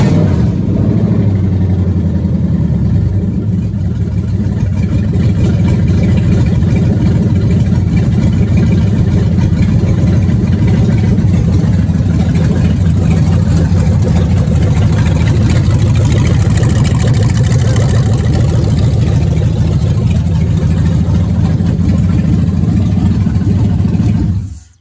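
A Gen 3 Hemi V8 swap engine runs steadily at idle after its starter is pushed, a loud continuous low rumble with a slight surge near the start, holding even until it cuts off at the end.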